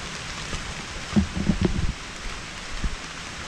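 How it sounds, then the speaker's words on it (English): Steady rain falls around a beach trek in Phuket, Thailand, a constant hiss with a brief cluster of heavier drops and rustling close by. "it's raining for real. It's really raining like on Predator."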